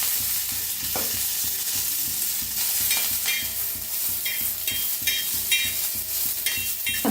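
Peeled garlic cloves fry in a little oil in a pan, giving a continuous soft sizzle, with a few scraping stirs and small clinks of the utensil breaking through.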